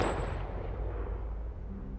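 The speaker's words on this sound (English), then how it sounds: "the gunshot." A single gunshot in a game trailer cracks sharply at the start, then decays into a long, ringing tail that fades over two seconds with no voices.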